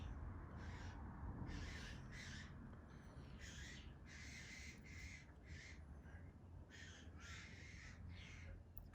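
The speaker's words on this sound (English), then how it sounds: "we've got a lot of birds screeching for their mums out the" Outdoor young birds caw and squawk for their mothers in spring, in repeated bursts over steady background noise, several calls overlapping throughout.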